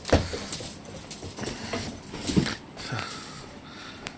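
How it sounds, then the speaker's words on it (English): Kelpie dog outdoors in cold weather making short whimpering and panting sounds with a jingle of tags, close but intermittent over rustling background. "It's got a new dog."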